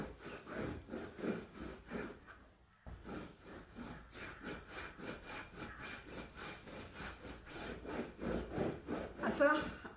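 Rhythmic back-and-forth scrubbing as a wet cloth fitted on a handheld cleaning tool is rubbed over a sofa, a steady close rasping stroke about twice per second with one brief pause.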